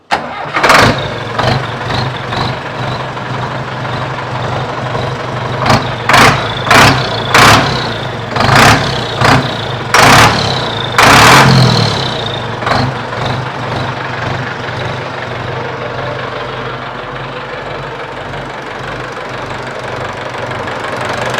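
A 5911 tractor's diesel engine with 105 bore runs steadily for the whole stretch, loud and close, with a series of sharp clanks and revving bursts early on before settling into an even idle.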